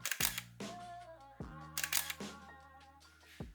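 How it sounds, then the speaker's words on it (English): Three sharp mechanical clicks of a Canon 5D DSLR shutter, each followed by a resonant ringing tail, spaced about a second apart with a quieter click near the end. "The shutter sound is unapologetically photographic"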